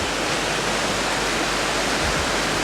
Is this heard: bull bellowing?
no